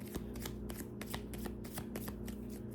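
A deck of Moonology oracle cards is shuffled up close, giving a quick, steady run of crisp riffling flicks that fills the whole short moment.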